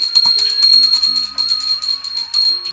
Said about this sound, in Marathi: आणि दिव्याने वळून घंटी वाजवायची